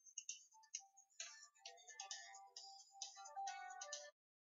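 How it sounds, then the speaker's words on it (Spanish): A mobile phone ringtone plays during a Clash Royale gameplay recording: a quick, bright chiming melody of short repeated notes, faint and alone, lasting about four seconds before cutting off abruptly. "Lo siento chicos por el ruido del móvil."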